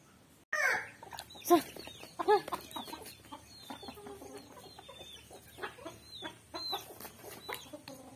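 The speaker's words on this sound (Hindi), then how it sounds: "हमारी मुर्गियाँ जो है वो निकल चुकी थी इस वक्त तो देखिए आंगन पे कैसे दौड़ा दौड़ी कर रहे हैं" Chickens clucking in a village courtyard, with a few loud, close calls early on followed by scattered softer clucks and rustling movement as the birds run about the yard.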